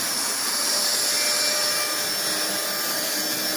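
A vacuum cleaner runs loud and close, a constant roaring whoosh with a high whine that stays steady from start to finish, with nothing else audible.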